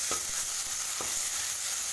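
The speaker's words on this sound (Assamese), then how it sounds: "গোটেই মিশ্ৰণটো মই অকণমান ৰঙচুৱা হোৱালৈকে ভাজিম।" A ground spice paste for soybean curry fries in a pan, a close steady sizzle with two distinct scraping strokes of a spoon stirring the mixture.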